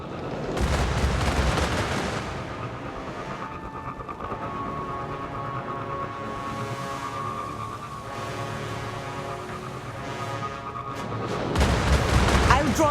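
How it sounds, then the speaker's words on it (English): Heavy cannon fire from a Cabal Goliath tank in the video game Destiny Rising, booming blasts at the start and end over a dense, continuous wash of battle noise and gunfire. "A Goliath tank. Watch out for its cannon."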